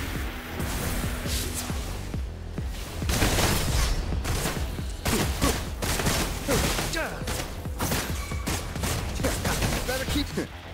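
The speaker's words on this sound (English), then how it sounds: "The bullets fly." Gunfire in the video game Wuthering Waves rattles in repeated sharp bursts and volleys, loud and close, alongside other game sounds throughout.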